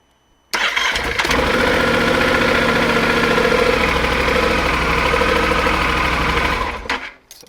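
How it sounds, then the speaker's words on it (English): A Yamaha Super Tenere XT1200Z motorcycle engine starts up and idles with a steady, loud, close mechanical rumble for several seconds before cutting off abruptly. "Let me switch on the bike and check if that works before I put it in the housing."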